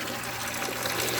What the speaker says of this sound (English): you will see that that bucket is now filling. It's draining the tank here.